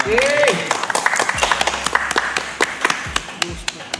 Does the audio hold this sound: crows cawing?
no